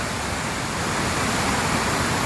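A waterfall at Hugh Moore Park in Pennsylvania pours in a steady, dense rushing roar, close and loud throughout, with no voices over it.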